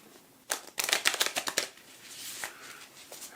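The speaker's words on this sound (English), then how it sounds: "I'll shuffle a couple times for you." Tarot cards are riffled in a quick series of crisp, close flutters lasting about a second, then a few softer taps as the deck settles, in a quiet room with no talking.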